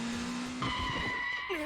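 A motorcycle skidding as it nearly runs someone over in the Dramatical Murder game, with a steady engine hum breaking into a sharp, close, high tire squeal that holds for about a second and then slides downward.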